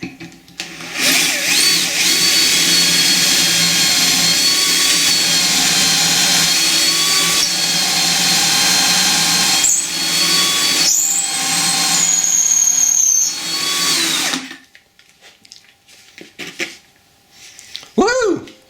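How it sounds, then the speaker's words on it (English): A power drill boring pocket holes in wood runs loud and steady for most of the stretch, with brief pauses and a scraping stop, then quiet handling noises and a short squeak. "I've got the pocket holes drilled there"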